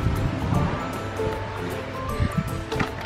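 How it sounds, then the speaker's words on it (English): Strong gusting wind buffets the microphone outdoors ahead of an approaching storm, a rough, surging rush that rises and falls over a few seconds. "It's super windy and it's about to storm."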